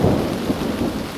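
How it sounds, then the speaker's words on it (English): Rain falls steadily in a state park during tornado weather, a dense continuous hiss with low rumbling underneath, close and moderately loud with no voices. "Rain is expected to stop in like 43 minutes."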